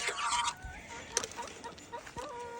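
Chickens clucking at feeding time on a farm, with geese nearby; short bursts of clucks and squawks come in an irregular string, fairly close, over a quiet yard.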